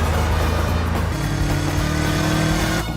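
A car speeds away with a loud, close engine roar that climbs in pitch as it accelerates, then cuts off sharply at the end.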